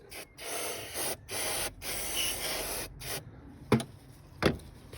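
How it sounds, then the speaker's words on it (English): Cleaner sprays in several short hissing bursts onto a car engine near the crankcase, close and fairly quiet, followed by a couple of sharp clicks or knocks. "Probably shouldn't be spraying this that close to the crankcase"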